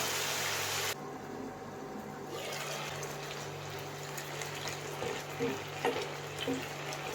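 Chicken curry simmering gently on a low flame, giving a soft continuous bubbling and faint sizzle with occasional light pops, steady and close with no talking.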